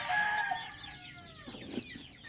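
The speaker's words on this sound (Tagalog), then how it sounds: "magpakain muna tayo sa ating mga alagang sisiw" Young pet chicks chirp in high, thin calls at feeding time, close to the microphone, with a few soft clucks and rustles toward the end.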